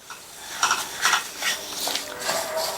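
Flattened rice (aval) is stirred continuously in a hot pan while roasting, giving a series of rhythmic scraping, rustling strokes at close range with no talking.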